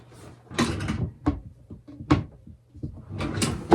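A clothes drawer is pulled open up close, with several sliding scrapes and knocking clunks in quick succession, loud and alone.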